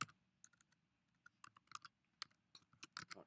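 Keys on a computer keyboard clatter in irregular bursts of quick, light clicks, close and fairly quiet, with no voices.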